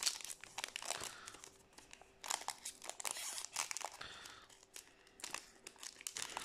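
Crinkling and tearing sounds come from a Bataille de Légende trading card booster pack being ripped open, soft irregular crackles of foil wrapper rising and falling close to the microphone.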